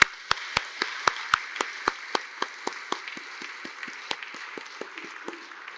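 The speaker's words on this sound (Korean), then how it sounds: "박수 한번 쳐야죠." Sparse, evenly spaced claps from a church congregation during a Sunday service ring out in a reverberant room, a slow rhythmic beat that thins toward the end.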